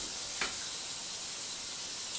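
Steady sizzling and crackling of pork chops and sausage frying in a hot frying pan, a constant bright hiss with no talking.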